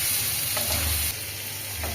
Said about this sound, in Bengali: নুন দিয়ে ভালোভাবে নাড়াচাড়া করে নিচ্ছি